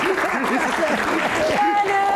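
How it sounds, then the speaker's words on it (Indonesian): An audience at a Q&A event applauds for Gian, with steady clapping under overlapping talk and voices throughout. "tepuk tangan buat Gian"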